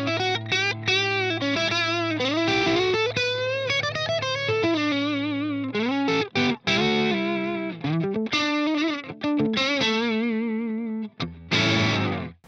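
Electric guitar through an overdrive pedal plays a melodic, sustained phrase of bending notes and chords, loud and up close, with a brief pause near the end before a final strummed burst.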